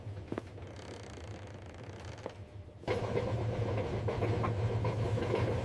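Train carriage rolling along rails, a low rumbling drone with soft rhythmic clatter that grows noticeably louder and fuller partway through, heard alone without talk.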